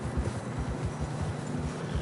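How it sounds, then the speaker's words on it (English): Steady rhythmic clip-clop of horse hooves plodding through fresh snow in the video game Red Dead Redemption 2, with a constant low rumble of wind or movement underneath, no voices. "Horses are getting tired."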